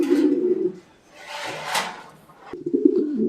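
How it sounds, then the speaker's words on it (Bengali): Pigeons at a pigeon farm give low, throaty coos that rise and fall in two close bursts. Brief rustling comes in between, and there are no voices. "সুন্দর কবুতর দেখতে পাচ্ছেন আপনারা"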